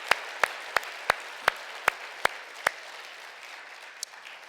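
A congregation at a church New Year prayer marathon claps in a steady, evenly spaced beat of sharp single claps over a faint room hush, fading out after about three seconds; no distinct cheering stands out.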